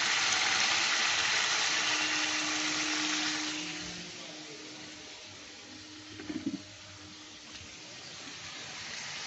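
Hot water poured into a simmering pan of green chili chicken curry with potatoes makes a loud, steady hissing rush that fades after a few seconds into quieter bubbling, with a brief clatter late on.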